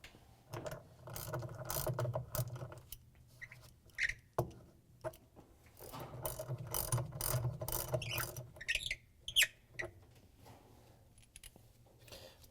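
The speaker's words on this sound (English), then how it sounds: "we can take our 1/2-inch socket and remove the bolts that hold the trunnion block together" A hand ratchet with a 1/2-inch socket backs out the trunnion block bolts on a Frigidaire/Electrolux washer. Repeated rapid clicking runs with short pauses and some metallic clinks, close and quiet, with no talking.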